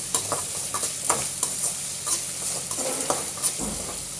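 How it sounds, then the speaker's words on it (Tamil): Sliced onions sautéing with salt in a pan for Tamil meen kulambu fish curry: a steady close sizzle broken by repeated scraping stirs of a spoon against the pan, with no talking. "வெங்காயம் வதங்கி வந்துருச்சு."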